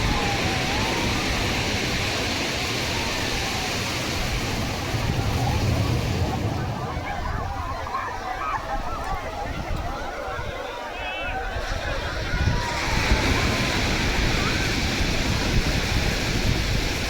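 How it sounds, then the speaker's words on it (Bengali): Continuous roar of surf and wind at Digha beach, waves surging and washing close by, loud and unbroken with faint voices mixed into the noise. "ঢেউটা দেখো"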